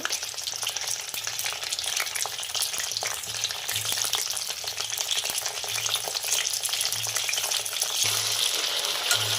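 Eggplant deep-frying in hot oil for a stuffed eggplant masala curry, a steady dense sizzle with crackle throughout and a low intermittent hum, close and continuous with no talking.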